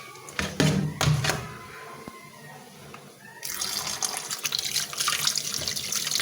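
Pangas fish is washed with salt under a running tap; a few knocks and handling thuds come first, then water gushes steadily into the sink close by.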